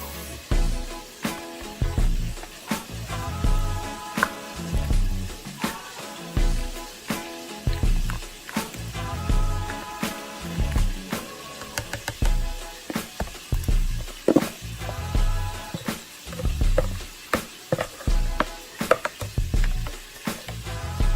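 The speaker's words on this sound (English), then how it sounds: "I'm frying chicken, y'all, so if y'all hear that popping, that's what it is" Ground beef sizzles steadily in a hot skillet alongside frying chicken, punctuated by frequent sharp pops and crackles at an uneven rhythm, close by with no talking.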